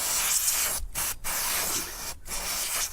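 Seal lubricant spray applied to caravan door and window seals, a steady close hiss running through most of the clip, cut by three short pauses between bursts.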